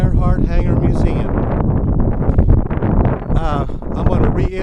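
Wind buffets the microphone outdoors near the Amelia Earhart Hangar Museum in Atchison, Kansas, a steady loud rumble with gusty surges running under the whole stretch.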